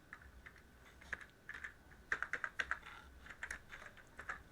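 Keystrokes on a computer keyboard while entering Python code, a quiet run of separate taps that bunches into quicker clusters, close to the microphone with no talking.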